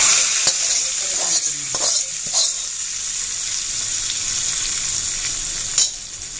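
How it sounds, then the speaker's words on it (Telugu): Hot tempering hits simmering rasam with a steady sizzle and bubbling. A few soft clinks of a spoon or pot are heard near the start and near the end. "మరిగిన చారులోకి ఇప్పుడు మనం వేసుకున్న పోపు ఇందులో వేసేస్తే"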